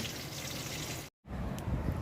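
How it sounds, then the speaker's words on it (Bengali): Hilsa fish curry gravy with monsoon green vegetables is poured, made after the fish was fried. A steady, close liquid gush breaks off for a moment, then resumes and runs on. "এই যে মাছের ঝোল ঢাললাম"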